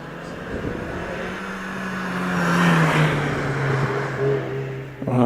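Mazda MX-5 race car climbing a hillclimb course, its engine note a steady droning pull that swells louder mid-run and then eases, heard at moderate distance.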